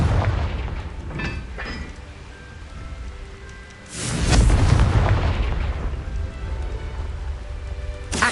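A Confringo fire-blast spell in the Hogwarts Legacy video game bursts into a loud, broad explosion near the middle, following a quieter stretch of crackling, rain-like game ambience, with the blast's rumble lingering to the end.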